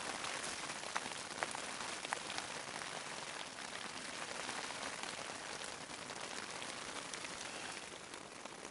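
Heavy storm rain drums steadily on a tent, with strong wind behind it, a dense, constant hiss that never lets up, heard close and fairly loud throughout.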